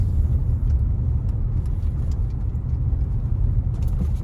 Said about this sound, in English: this is what the traffic now looks like. It's moving slowly.